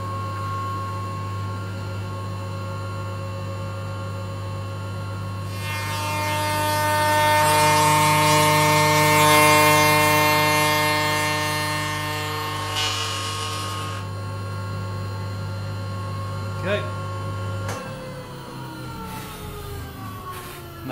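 A cutter machines the bearing edge of a drum shell on the final finishing pass, a steady loud hum with a harsher cutting whine swelling in the middle before the motor drops away near the end.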